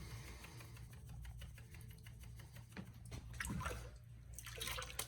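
A gold pan of sand and water is shaken while panning for North Carolina gold, giving faint watery swishing and trickling with soft gritty rattles, quiet and steady against a low background hum.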